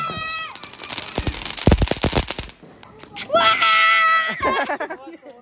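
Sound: firecrackers being burst for Diwali

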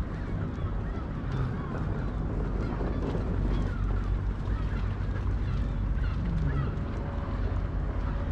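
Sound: ducks on the Union Canal

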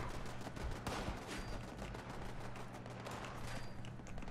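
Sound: gunfire in the video game Fallout 76

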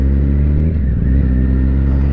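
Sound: motorcycle V-engine revving

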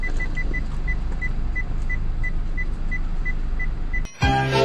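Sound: car beeping

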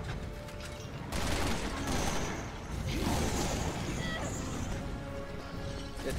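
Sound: gunfire in Resident Evil 6 video game

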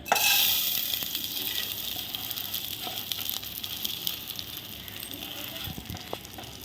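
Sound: rice sautéing in ghee with cloves

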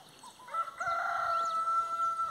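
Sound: rooster crowing

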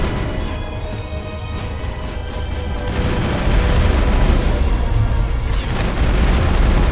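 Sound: gunfire in Mass Effect video game

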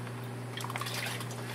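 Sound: water being added into a floating fish bag

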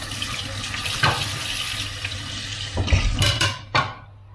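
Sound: washing hands under running tap water

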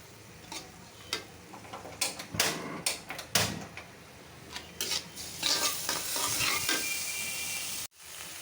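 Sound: stirring and frying the pointed gourd dolma filling in a pan

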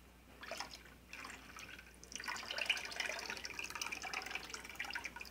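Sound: pouring milk for lucuma popsicles

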